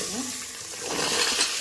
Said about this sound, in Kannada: ಎಣ್ಣೆಗೆ ಚೆನ್ನಾಗಿ ಫ್ರೈ ಆಗಬೇಕು.